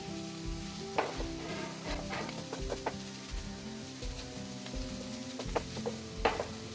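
Grated carrot roasting in ghee in a pan for barfi while being stirred, a steady soft sizzle under repeated scraping and tapping of a spoon against the pan, close and fairly quiet, with a low hum beneath.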